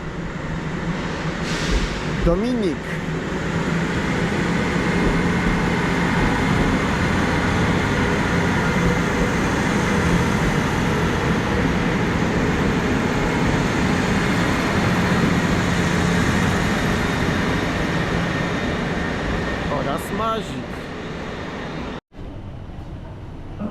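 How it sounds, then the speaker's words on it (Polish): A double-traction electric train pulls out of a station with a steady, continuous rumble and hum of motors and wheels lasting throughout, a brief clank near the start and end, and a voice speaking briefly over it. "i skład rusza"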